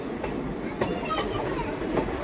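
A train rolls across the Kolaghat rail bridge over the Rupnarayan river, a steady rumbling roar with faint rhythmic clacks from the wheels, heard close and continuous.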